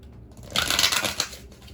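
A brief burst of papery riffling and flicking of tarot cards being shuffled close by, with no talking.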